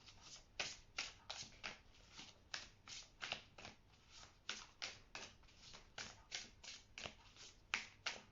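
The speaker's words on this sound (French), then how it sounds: "On va tirer une carte." Tarot cards being shuffled by hand, rapid riffling bursts in an irregular rhythm, close and fairly quiet, with no talking.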